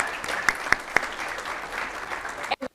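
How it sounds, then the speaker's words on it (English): Audience applause at a city's State of the City presentation, a steady crowd patter punctuated by a few sharp, louder nearby claps before cutting off abruptly near the end. "Think that deserves a hand clap?"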